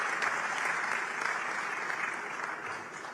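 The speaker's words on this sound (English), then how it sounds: "that deserves a round of applause" A conference audience at a diaspora culture plenary session gives sustained applause, a dense steady clatter of hands that gradually tapers toward the end.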